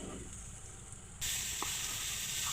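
Spices and coriander powder frying in a pan over low heat, a steady close sizzling hiss that grows louder and brighter partway through.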